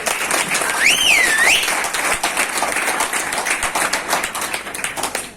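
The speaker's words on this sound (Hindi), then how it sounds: "महेंद्र सर के लिए एक जोरदार ताली होनी चाहिए।" An audience at a direct selling meeting breaks into loud, sustained applause for Mahendra sir, a dense wash of claps with a brief whistle near the start.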